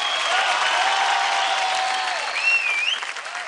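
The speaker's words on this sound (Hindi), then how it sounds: "जोरदार तालियां हो जाए" A studio audience at a televised dance competition show gives loud, sustained applause, a thick continuous roar of clapping with a little crowd noise and a short whistle near the end.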